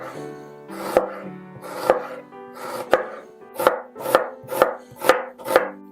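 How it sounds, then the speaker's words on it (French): A knife chops through halved onions for a traditional Alsatian flammekueche topping, with about nine crisp, steady strokes against a board, close and clear with no talking. "Vous les coupez en deux, et vous allez les émincer finement."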